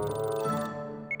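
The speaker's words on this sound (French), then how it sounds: "c'est mon alarme de rappel" A phone reminder alarm in a Polly Pocket cartoon plays as a short, bright chiming melody with sustained musical tones, loud and close, ending with a couple of high beeps.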